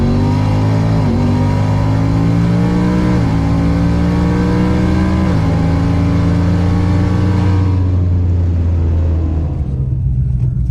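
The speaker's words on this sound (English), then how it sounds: "the S550 Mustang. Wheels up on the first gen Camaro." An S550 Mustang and a first-generation Camaro launch side by side in a drag race at a 352 shootout, loud engines roaring through several rising shifts before the sound cuts and fades to a low rumble.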